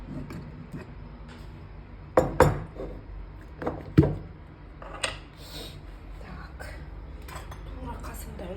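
A small spoon clinks against a bowl while salt goes into a pumpkin, potato and onion filling, giving a few sharp, close metallic taps over faint background noise.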